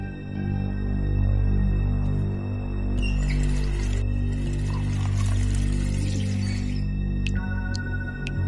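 Water is poured in a kitchen in The Wolf Among Us video game. A few seconds of steady, splashing pour rise over a constant low ambient hum, then stop abruptly.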